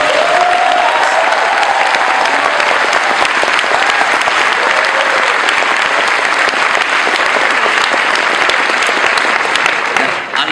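A large audience at a PAX East 2012 convention panel applauds loudly and continuously for about ten seconds, a dense wash of clapping with scattered cheers that fades slightly at the end.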